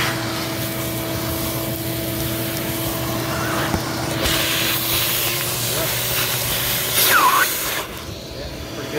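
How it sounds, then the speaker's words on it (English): Shop vacuum fitted with a two-stage dust separator lid on a 5-gallon bucket sucking up plywood dust and wood chips: a steady close whooshing hiss with a constant motor hum and brief surges as debris is pulled in. "I got some rips in there, wood, sucking them right out."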